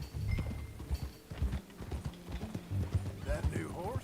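Horse hooves clip-clopping in Red Dead Redemption 2 as a steady walking gait, with a brief whinny near the end and game dialogue over it.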